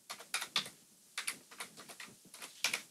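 Form entries being typed on a computer keyboard: irregular bursts of close, crisp key clicks in quick clusters separated by brief pauses, with no voices.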